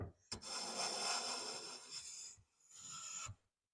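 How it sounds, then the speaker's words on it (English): A hand plane takes fine shavings against the grain of a wooden board: two rasping, scraping strokes, the first longer and the second shorter after a brief pause, close and fairly quiet with no talk. "now I'm going against the grain, so to speak. I'm just slowly creeping up on the shaving."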